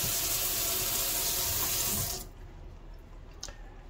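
Water pours steadily into the tank of a Honeywell Designer Series Cool Mist humidifier, a loud continuous splashing stream that stops abruptly partway through, leaving a quiet room with a faint clunk.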